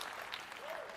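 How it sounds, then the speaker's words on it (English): Applause from an audience at a video game reveal event fills the whole second, a dense, steady patter of many hands clapping at once. "Clap that up because you asked for it."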